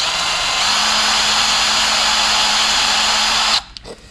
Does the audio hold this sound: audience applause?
no